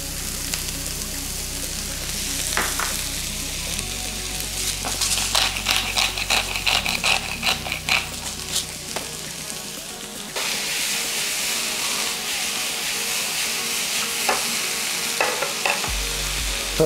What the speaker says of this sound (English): So our peppers have been cooking and onions for 3 or 4 minutes